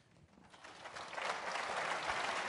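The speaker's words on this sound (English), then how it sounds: "You don't have to clap every time I give an answer." Lecture audience breaking into applause, the clapping starting lighter and swelling into a dense, steady ovation that holds loud through the end, with no voices over it.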